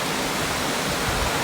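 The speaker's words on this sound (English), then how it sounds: "We've made it to Little Missouri River Falls," Little Missouri River Falls, a waterfall on a hiking loop, pours in the early morning dark, a loud, steady broadband rush of falling water that fills the moment without pause or voices.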